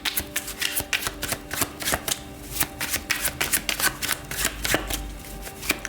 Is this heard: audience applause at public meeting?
no